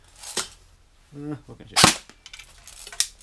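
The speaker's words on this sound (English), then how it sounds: "this is an airsoft gun. In fact, let me shoot it." An airsoft replica assault rifle fires a few sharp, snappy shots close by, spaced irregularly, with a person's voice briefly heard between them.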